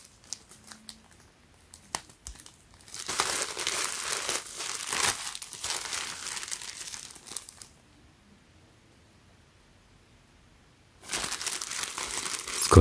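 A plastic garment bag around a Supreme x The North Face tee crinkles as it is opened, in loud close bursts of rustling and crackling separated by quiet gaps, with no talking.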